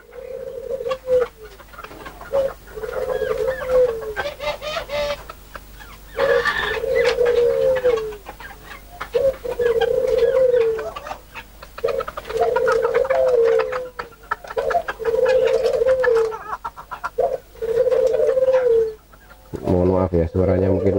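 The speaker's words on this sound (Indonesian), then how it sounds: "Suaranya mungkin agak ribut karena di sini bukan hanya ayam tapi banyak juga burung-burung ya." Chickens and many other birds kept at a breeding yard, calling repeatedly: loud, close cooing and clucking phrases come in a steady rhythm, with a sharper call near the end.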